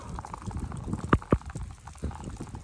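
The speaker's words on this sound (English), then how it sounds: "I'm definitely taking my first RVer hobo shower." Rainwater runs and splashes during an outdoor rainstorm shower beside an RV in Baja, a close, irregular trickling and dripping with two sharp louder splats in the middle; no voices.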